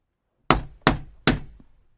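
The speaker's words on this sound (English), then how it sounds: "Finally, he knocked on the shop door." Three firm, evenly spaced knocks land on a shop door close by, each ringing out briefly in an otherwise quiet space.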